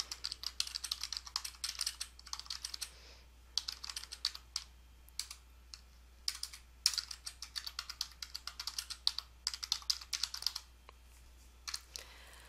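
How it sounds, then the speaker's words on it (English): Quiet, close typing on a computer keyboard, with bursts of quick key clicks separated by short pauses and no talk over it. "Type in your subject, and then type in your message."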